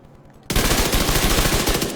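Converted SMG A2 fire in The Division 2, a sudden loud, rapid burst of automatic gunfire starting abruptly and continuing unbroken to the end, close and dense, with no talk.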